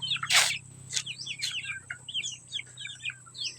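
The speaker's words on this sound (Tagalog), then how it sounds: "Dagko na jud ang mga manok na natay kuan ani guys." Large chickens cluck and chirp close by in a yard, a run of short squawky calls with one loud burst near the start over a low steady hum, no talking.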